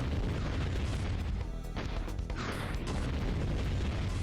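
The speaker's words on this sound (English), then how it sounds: "Check out my mine. It's just charging up. It's gonna blow up everyone in a second." A sea mine detonates in the naval video game Ocean Commander, a loud, continuous boom with rumbling, crashing debris that fills the whole stretch without a clear pause.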